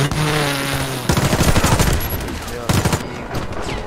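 Rapid bursts of automatic gunfire crackle close up, broken by short pauses, with the sharp, loud bangs of a first-person shooter firefight.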